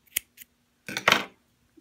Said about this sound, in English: Cut a piece of yarn.